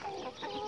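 A white hen in a backyard flock gives a short, steady clucking burst, moderately loud and close, with no voices over it.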